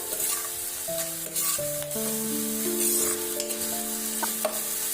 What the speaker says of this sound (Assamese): ভালদৰে পিঁয়াজখিনি মই লৰাই দিম